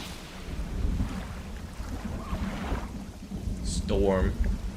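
A thunderstorm at sea in the fishing video game Dredge: a deep, rolling low rumble of thunder and wind-swept water continues throughout, and a voice briefly speaks near the end.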